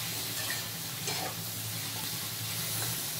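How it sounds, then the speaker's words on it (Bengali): Okra and spiny gourd fry in hot oil with turmeric, giving a steady, close sizzle with soft stirring scrapes throughout and no talking. "সব দিয়ে ভেজে নেব।"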